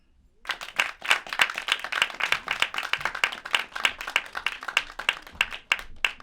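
Audience at a comedy show claps for a performer, a dense burst of applause that starts abruptly, stays loud and steady, then thins slightly toward the end.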